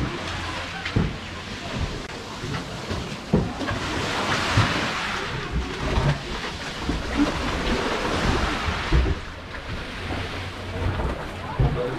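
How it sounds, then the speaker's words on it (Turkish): Surf washes continuously onto Mogren Beach in Budva, a loud, dense roar of breaking sea waves with gusty wind and occasional heavier crashes. "Şu anda da Mogren Beach'teyiz."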